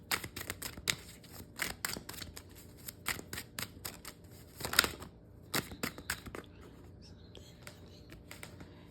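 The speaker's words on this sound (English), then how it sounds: "I'm going to shuffle more and see what we get." Tarot cards shuffled by hand in several quick bursts of papery riffling close by, pausing briefly before a final softer flurry, with no speech.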